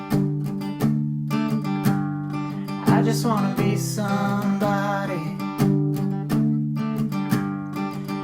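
Acoustic guitar strums the bridge chords of a song in steady, loud strokes, with a voice singing along over the chords throughout.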